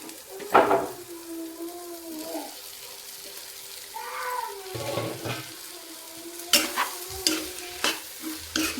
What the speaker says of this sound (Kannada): ಇವಾಗ ಇದನ್ನೆಲ್ಲ ಇದಕ್ಕೆ ಹಾಕಿ ತಿರ್ಸ್ಕೊತೀನಿ.